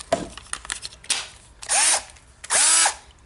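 A Milwaukee M12 cordless drill runs in two short bursts of a whirring motor, each under half a second, after a few clicks and handling sounds, close and fairly loud with no talking.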